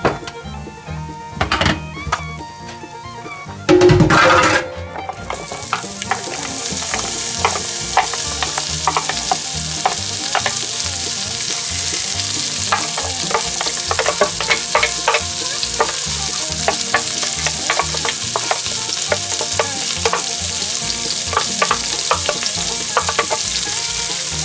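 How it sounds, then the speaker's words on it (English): Chopped onions drop into bacon grease for a chicken chili. A few loud knocks and clatters come first, then a dense, steady sizzle with scattered pops and crackles that keeps going close up, with no talking. "We will be adding the chopped onions,"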